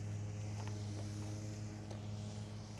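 A Skag lawn mower runs steadily nearby at an auction with old equipment, giving a constant low engine drone with faint clicks and knocks.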